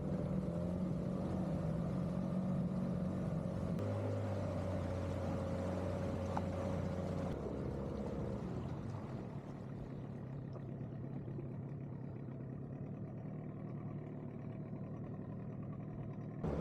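An outboard motor on a small dinghy drones steadily while the boat moves across a choppy, exposed anchorage, the engine's tone shifting partway through, with constant water and wind noise underneath and no talking.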